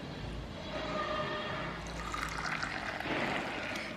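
Homemade ginger tea is poured into a cup, a continuous liquid pour and trickle that rises toward the end, heard alone without talk.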